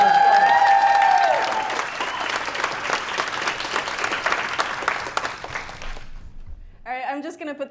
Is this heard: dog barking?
no